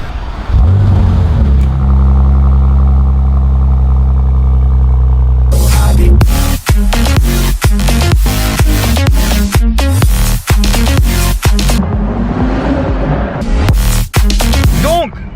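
A Bentley Continental GTC engine idles with a deep steady rumble, then gives way to loud, busy, rhythmic sound with sharp hits, engine noise persisting underneath.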